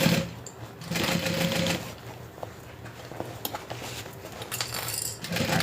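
A sewing machine stitches a curved seam on a backpack in bursts, running briefly, pausing with small clicks and taps, then starting again, close and fairly quiet.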